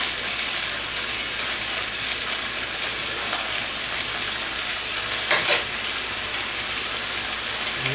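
Garlic and ginger frying in a pan for fried rice, giving a steady, loud, dense sizzle that is briefly stirred once, with no talking.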